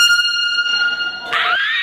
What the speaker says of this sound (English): Air horn on my birthday.